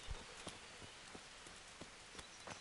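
Horse hooves in a video game clop in a sparse, irregular series of sharp thuds over a soft, steady rain-like hiss, quiet and somewhat distant.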